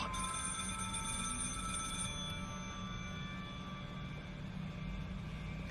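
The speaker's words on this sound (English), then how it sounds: "the sound of a phone ringing from within his room" An old-fashioned telephone bell rings continuously, a steady metallic trill heard faintly in a quiet room.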